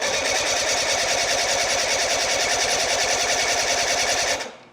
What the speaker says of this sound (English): I'm gonna go ahead and get some compression numbers on this outboard.